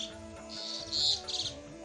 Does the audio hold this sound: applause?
no